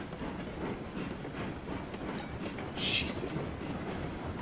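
A locomotive rolls along rails in the train game RailRoads Online, a steady low rumble with faint clicking and a brief hiss burst near the end, while a voice utters a short exclamation.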